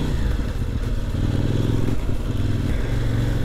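A KOVE 800 Adventure motorcycle engine with the throttle released, a loud, steady close rumble of engine braking with a low throbbing pulse and wind buffeting, no voices.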